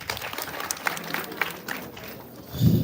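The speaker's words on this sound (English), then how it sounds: "Clap for her." A small audience at a live gathering gives brief, scattered applause with a few sharp claps. It fades after a couple of seconds, and a low thump follows.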